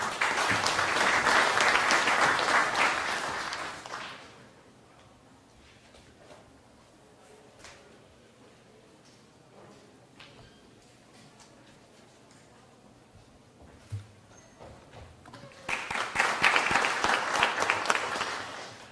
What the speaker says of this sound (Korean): 네, 큰 박수로 부탁드리겠습니다